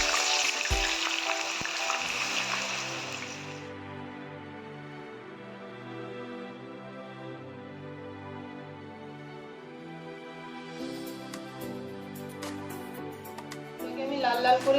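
Potatoes deep-fry in hot white oil, with a loud bubbling sizzle at the start that fades under a stretch of talking, then swells again near the end.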